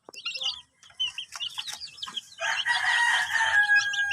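Young chicks and grown chickens clucking and peeping in a backyard flock, busy overlapping calls that build to a dense, continuous chorus, with a high rooster-like note near the end.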